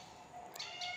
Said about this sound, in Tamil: ஆனால் வெளியில் வேறு பூனை வேறு சத்தம் போடுது.